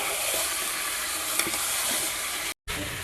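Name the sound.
meat being stirred while frying in a pan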